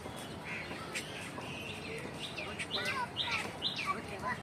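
A young black drongo chick calls outdoors, a series of short faint chirps and squeaky notes repeating irregularly against soft background noise.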